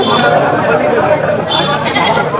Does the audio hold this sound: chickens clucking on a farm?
no